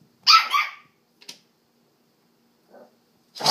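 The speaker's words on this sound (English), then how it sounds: "Ooh, that was a big bark." A playful dog, sharing the scene with a Westie puppy and a Wheaten terrier, gives loud, close, sharp barks. Two quick barks come first, then a short yip and a faint muffled one, and finally another loud bark.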